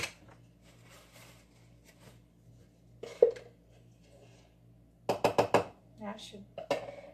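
A spoon scrapes and clinks against a jar while scooping mayonnaise, giving a few soft taps followed by a close burst of rapid clattering scrapes; a voice talks throughout.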